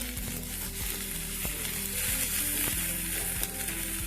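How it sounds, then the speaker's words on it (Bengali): Chili and ginger paste frying in white oil with black cumin seeds makes a quiet, steady sizzle, with a low hum beneath and several soft, regular stirring taps from a utensil. "এখন লঙ্কার আদা পেস্ট ভালো করে ভেজে নিচ্ছি"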